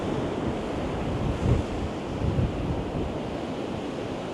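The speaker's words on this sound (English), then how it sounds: "Our wind's picked right up now," Strong wind buffets the microphone over surf on a Northumberland beach during a cod fishing match, a dense low roar that swells briefly twice.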